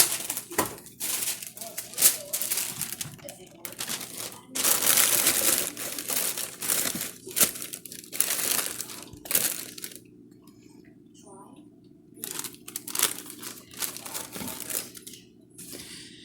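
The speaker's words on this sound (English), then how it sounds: "I have wax paper, and I'm going to line that box with the wax paper" Wax paper crinkles and rustles close by as it lines a box for pumpkin chocolate chip cookies, in repeated crackling bursts with short pauses, quieter stretches and handling noises between them.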